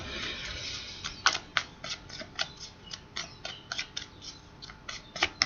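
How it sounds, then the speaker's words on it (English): Rapid, crisp ticking and flicking of tarot cards being shuffled close by, in an uneven rhythm of soft clicks, with no voices. "I am a clumsy shuffler, so that's why I try to pre-shuffle."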